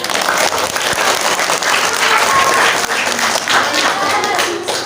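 A crowd claps at a Ramadan Khotmil Qur'an school ceremony as a student sports competitor is recognised, a continuous wash of applause mixed with talking voices over it.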